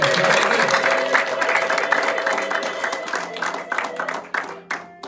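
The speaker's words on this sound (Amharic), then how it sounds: "እስኪ ለጌታ ክብር ጭብጨባና ለታው" Church congregation clapping in praise, a dense burst of applause from a crowd that thins and fades toward the end, with some voices mixed in.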